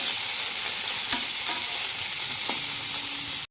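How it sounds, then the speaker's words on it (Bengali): Cashews and raisins fry in a pan for payesh, giving a steady, bright sizzle with a few clicks of a spoon stirring through them, close and alone before the sound cuts off abruptly. "লাল লাল করে একটু ভাজতে হবে, যতক্ষণ না কাজুগুলো লাল লাল হচ্ছে।"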